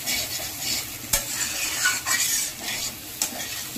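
Taro corms frying and being stirred with spices in a pan for a hilsa curry: a steady close sizzle with scraping strokes and occasional sharp clinks of the spoon against the pan, no voices.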